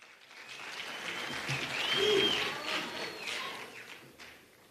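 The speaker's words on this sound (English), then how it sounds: "Another round of applause for Comrade Gaby." At a political address, an audience gives sustained applause after a speech. The clapping swells toward the middle and then gradually tapers, with a faint whistle carrying over it.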